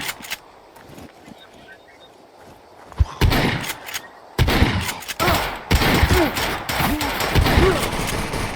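Gunfire in the online survival shooter Scum comes in loud bursts of sharp shots over the second half, after a quieter stretch with faint background sounds and voices.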